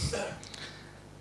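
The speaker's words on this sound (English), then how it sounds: "Or were you clearing your throat" A single short throat clearing at the very start, close and fairly quiet, then fading into a faint room background.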